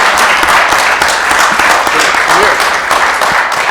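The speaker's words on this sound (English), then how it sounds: "Let's give him a hand of applause." Loud, sustained applause from the audience at a city council meeting, a dense and steady wash of clapping filling the room throughout.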